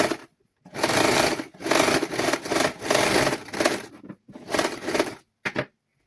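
Sewing machine stitching marked fabric for children's clothing, several loud close bursts of rapid needle chatter separated by brief pauses, ending in a short final burst.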